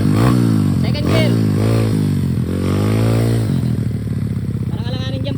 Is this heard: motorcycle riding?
yes